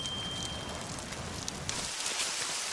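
Steady rain hisses on a surface outdoors at a moderate, even level, a dense wash of drops with no voices, easing slightly in low rumble toward the end.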